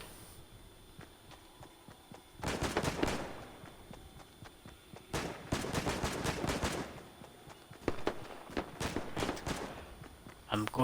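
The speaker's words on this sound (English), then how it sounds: "Oh, something's shooting at me there." Video game gunfire arrives in several rapid bursts of sharp shots, some loud and close, separated by quieter gaps with light background sound.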